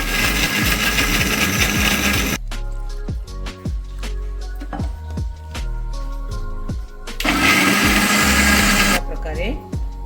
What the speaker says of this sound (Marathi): ती खेकडी आपण शिजायला ठेवायची टाकते मिक्सरला मिक्सरला ती बारीक करून घ्यायची